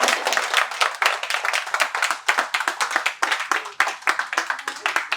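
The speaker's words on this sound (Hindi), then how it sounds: "तो तालियां अपने लिए।" An audience at a debate competition claps for itself after a motivational speech, a dense, loud burst of many hands close by, with a brief dip midway and then more clustered clapping until the end, without talk.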